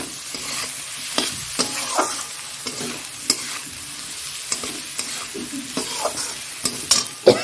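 Vegetables fry in a pan while being stirred, with a steady sizzle and regular scraping strokes close by, and no voices.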